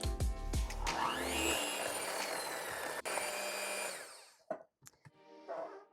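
An electric mixer whirs steadily through cake batter with vanilla and almond extract for banana coconut muffins, loud and continuous for about four seconds, then cuts out into a few scattered bumps and clinks.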